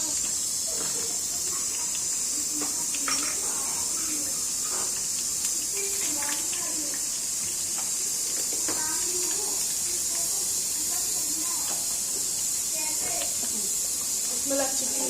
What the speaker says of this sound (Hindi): ये देखो भाई, इसमें तड़का लग रहा है।